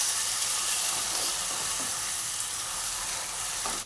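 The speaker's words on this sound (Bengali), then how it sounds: "লোটে মাছটা দিয়ে ভালো করে ওর সঙ্গে মিশিয়ে নেব।" Bombay duck (loté fish) being stirred into a spice paste as it fries, giving a steady, loud sizzle that hisses evenly throughout with no pauses and no voices.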